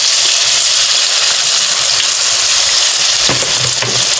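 Pakora batter fries in hot ghee with a dense, continuous loud sizzle and crackle, a spoon stirring briefly near the end, no voices.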